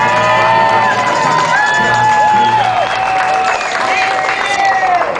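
Crowd at an outdoor single-payer health care protest in Philadelphia claps steadily and cheers with scattered whoops and shouts, a dense, loud wash of applause lasting throughout.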